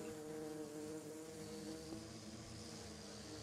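Minecraft bees droning around their hives, a low, steady, continuous buzz that holds at a faint level throughout without breaks.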